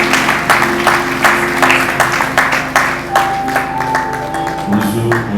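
Church congregation applauding to welcome Pastor Max, a steady rhythmic clapping that carries throughout, with a sustained keyboard tone entering in the second half and faint voices underneath.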